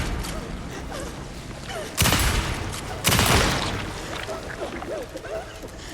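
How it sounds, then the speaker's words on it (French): Two loud, sharp broadband blasts about a second apart from a pump-action shotgun in the video game Alan Wake II, rising over busy game ambience. "On va prendre le fusil à pompe."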